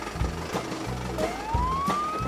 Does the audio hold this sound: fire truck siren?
yes